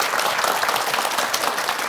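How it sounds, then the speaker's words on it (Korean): Dense, steady applause from an audience thanking a professor after a lecture, continuous and fairly loud throughout with no voices standing out. "큰 박수 보내주시기 바랍니다"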